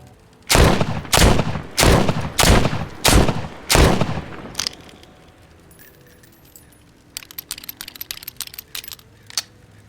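Six loud, evenly spaced gunshots from a handgun in the VR zombie game The Walking Dead: Saints and Sinners, followed by quieter clicking and metallic handling noises as the weapon is reloaded; no talking.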